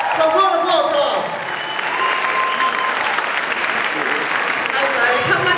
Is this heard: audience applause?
yes